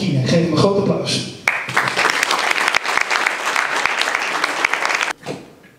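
An audience bursts into loud, dense applause for a spoken word artist, rising abruptly after a brief stretch of talking and music, then cutting off sharply near the end as a voice resumes.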